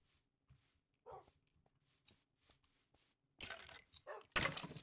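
A dog in Minecraft barks, with brief scattered yaps among soft game noises, followed by louder bursts of clatter near the end.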